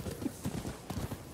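Horse hooves clip-clopping in the video game Rise of the Ronin, a quick, soft rhythmic trot of hoofbeats, fairly quiet and close.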